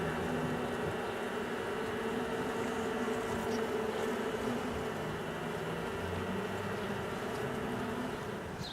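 A dense, continuous buzzing of many honeybees swarming close around a hive, a steady droning hum with no voices.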